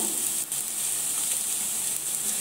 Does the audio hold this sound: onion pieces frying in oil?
yes